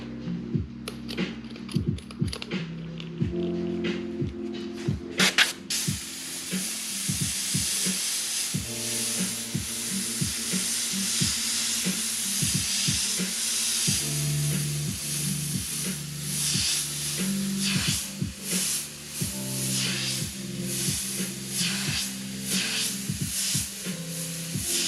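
An airbrush hisses steadily as it sprays paint onto a T-shirt for graffiti-style calligraphy lettering, with a partly clogged nozzle spitting paint. Irregular clicks and a steady background of tones run through the whole stretch.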